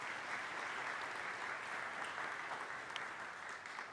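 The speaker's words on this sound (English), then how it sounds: "let's give them a round of applause" Audience at a church charitable foundation's scholarship gathering applauding its trustees, a steady, even wash of many hands clapping, soft and somewhat distant throughout.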